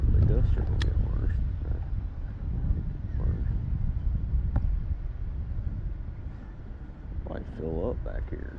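Steady low rumble of wind gusting over a lake, Lake Wylie, continuous throughout with slight gusty swells, a voice speaking intermittently over it.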